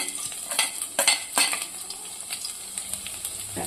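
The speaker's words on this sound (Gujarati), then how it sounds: "હવે આપણે ઝીણા સમારેલા લસણ નાખીશું." Chopped garlic sizzles in hot oil over a medium gas flame while a utensil scrapes and stirs the pan in several short strokes.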